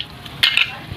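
Dried red chilli and nigella seeds fry in hot oil, giving a brief, close sizzle with a sharper crackling burst near the middle of the short moment.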